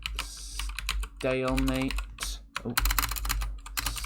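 Typing on a computer keyboard, a quick burst of close clicking keystrokes in irregular runs, interrupted by a short spoken word partway through.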